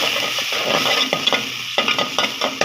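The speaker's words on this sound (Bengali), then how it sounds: "পেঁয়াজটা নরম করে ফেলছি" Onions frying in a pan with oil, a steady close sizzle broken by repeated scraping strokes of a spoon stirring them, no voices.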